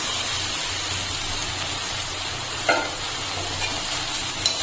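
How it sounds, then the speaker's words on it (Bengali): Marinated soya chunks frying in a pan with onion and partly boiled potato, giving a steady low sizzle with a couple of brief scraping stirs, close and alone. "সোয়াবিনটা দিয়ে একটু কষে নেবো"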